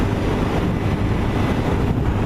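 Honda VTR1000 SP1 motorcycle cruising on the motorway: a constant loud roar of wind buffeting and engine drone at speed, with no break.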